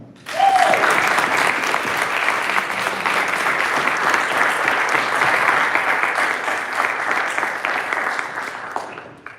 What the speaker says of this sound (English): please join me in a round of applause for Sarah Garcia.